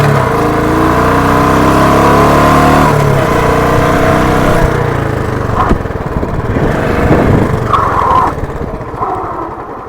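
A Bullet Standard 350 BS4 motorcycle accelerates hard in first gear, its loud, close single-cylinder engine rising in pitch through several revs before easing off toward the end.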